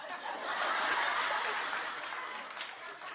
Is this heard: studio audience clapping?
yes